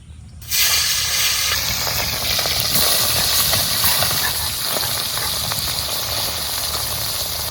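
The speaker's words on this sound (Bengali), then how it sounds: "এবার তেলের মধ্যে মাছ দিয়ে দেবো।" Tangra fish hit hot mustard oil in a karahi with a sudden loud burst of hissing sizzle that then holds as a dense, steady, close frying roar, full of bubbling crackle.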